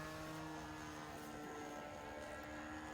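Small RC model airplane from a hobby flying session coming in to land, a steady droning propeller hum with a faint whine, continuous and fairly distant with no talking.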